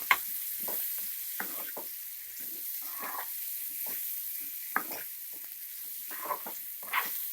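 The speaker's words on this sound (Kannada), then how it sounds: "ಸಿಮ್ ಫ್ಲೇಮಲ್ಲಿ 1-2 ನಿಮಿಷ ಫ್ರೈ ಮಾಡ್ಕೊಬೇಕು ಇದನ್ನು" Starfruit pickle masala of pickle powder, kalonji, turmeric and salt frying in a pan on a low flame, with soft steady sizzle broken by scattered scraping stirs of a spoon, fairly quiet and close.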